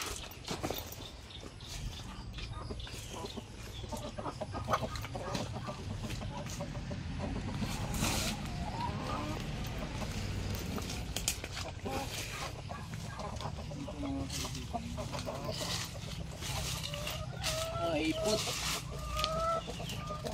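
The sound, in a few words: Chinese bamboo chickens clucking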